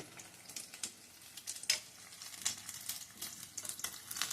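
Puri frying in hot oil gives a soft, steady sizzle with scattered small crackles and pops, quiet and continuous throughout.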